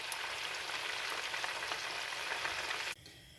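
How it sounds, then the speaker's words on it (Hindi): Mutton nargisi kofte fry in hot oil in a pan, giving a steady dense sizzle that holds evenly for about three seconds, then drops abruptly to a faint background hiss. "ऐसे ही जो हमारे 3 और हैं हम उनको भी फ्राई कर लेते हैं।"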